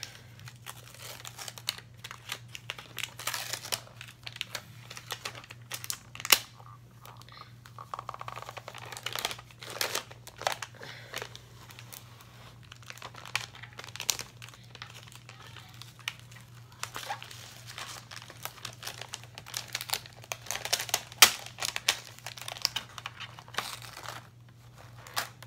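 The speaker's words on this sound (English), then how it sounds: "So I'm going to pull this back. Transfer tape back. Pull it." Transfer tape peeled back off a homemade music plaque, giving scattered crinkling and tearing crackles in irregular bursts over a steady low hum, fairly close and moderate in level.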